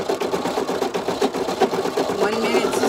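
Brother Innov'is NQ1600E embroidery machine stitching a small heart design, a steady rapid mechanical whir and needle chatter running continuously at close range, with a faint speaking voice underneath.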